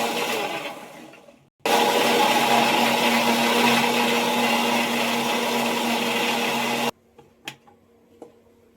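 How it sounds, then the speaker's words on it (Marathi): A kitchen mixer grinder whirs steadily at full speed as it grinds ginger, garlic and green chillies, running loud and close for about five seconds before cutting off abruptly, followed by a few faint clicks. "आपण आता ते मिक्सरला वाटून घेऊया पटकन"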